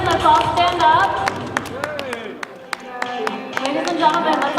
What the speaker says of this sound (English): Let's give a round of applause to Mr. Steven Melnick.